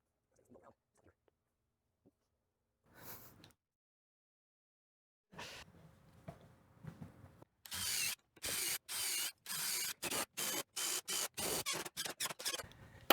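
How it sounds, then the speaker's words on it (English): A screw gun drives screws into the bottom plate of a scrap-wood workshop tool cart, starting with a few short quiet bursts. Then come a longer run and a rapid series of loud, evenly spaced whirring bursts with clicky stops. "use some screws to attach it all the way around"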